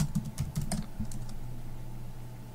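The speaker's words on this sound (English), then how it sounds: "Enter the passphrase." Quick bursts of key taps on a computer keyboard while a passphrase is entered in Linux, a short cluster of clicks lasting about a second, close and clear, then quiet hum with no talk.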